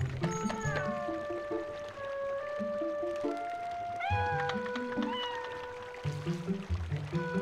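A cat meowing in the Zelda Twilight Princess video game, several clear, close, drawn-out meows in succession over soft background game music.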